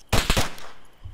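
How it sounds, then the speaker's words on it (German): Two or three rapid, loud gunshots ring out close by in Arma 3, Altis Life, followed by a fading echo and then quiet. "Wo, hier schießt einer."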